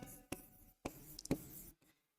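Marker or chalk strokes scratch across a board during a mathematics lesson, in a few sharp, quick swipes separated by brief pauses, quiet and close.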